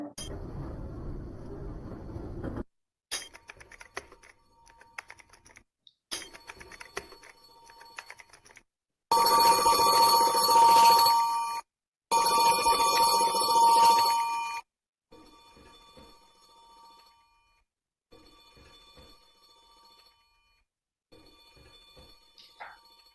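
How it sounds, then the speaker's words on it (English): A sequence of office and household sounds: noisy rumble, then knocks, a loud ringing telephone in two long bursts, followed by soft keyboard typing. "There's someone knocking on the door. There's a phone ringing. There's some typing at a keyboard in an office."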